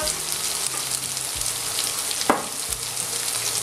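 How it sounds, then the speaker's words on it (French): Potatoes sear in a hot pan for a potato and lardon omelette, giving a steady, close sizzling hiss with one sharp crackling burst partway through. "On va bien saisir les pommes de terre. Je redonne un petit coup de chaud avant de mettre le reste."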